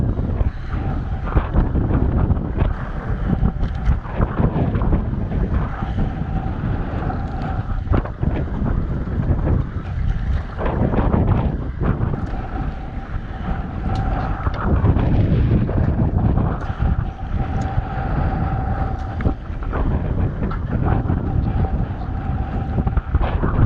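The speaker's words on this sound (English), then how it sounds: "The wind was starting to pick up a little, which started to complicate things with the cross current," Wind roars steadily over the open sea aboard a commercial wetline fishing boat, a constant loud buffeting across the whole stretch with a low engine hum beneath it.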